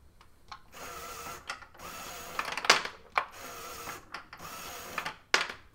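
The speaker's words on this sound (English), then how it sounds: "The reloading system is powered by an EV3 media motor placed over here." A LEGO EV3 medium motor drives the plastic ball-reloading mechanism of a LEGO skeeball machine, giving several short whirring, clicking mechanical bursts with brief pauses between them, close and moderately loud.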